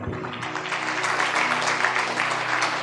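Loud, dense applause from an audience at a Punjabi religious sermon gathering, steady continuous clapping throughout with a low sustained hum underneath and no speech.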